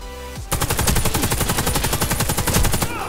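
Rapid automatic gunfire from a Galil AR rifle in the shooter game Warface rattles out in a fast, even burst of roughly twenty shots, loud and close, alone without talk.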